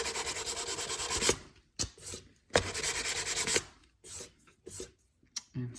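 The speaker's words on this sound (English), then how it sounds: "Take your sandpaper." Sandpaper rubs over dried DAP caulk on wood trim in quick back-and-forth strokes, with two long runs of rapid scratchy rasping followed by shorter, sparser rubs, close and alone with no talking.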